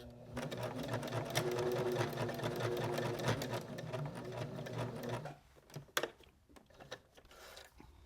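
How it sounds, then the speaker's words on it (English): A sewing machine runs fast over ribbon for about five seconds with a rapid whirring clatter, then gives a few short bursts and clicks while back stitching. "I'm going to stitch and then back stitch a couple of times"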